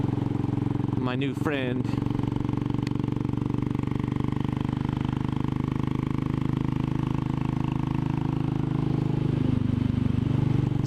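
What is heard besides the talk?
Royal Enfield Classic 500 motorcycle being ridden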